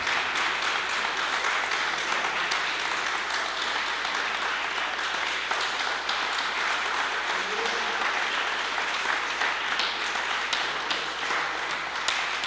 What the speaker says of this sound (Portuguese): Se você pode dar o seu maior aplauso ao Senhor